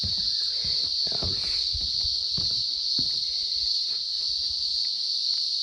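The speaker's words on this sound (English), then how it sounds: "You may be able to hear the cicadas." A loud, steady high-pitched drone of cicadas fills the air, with scattered low thumps and rustles underneath.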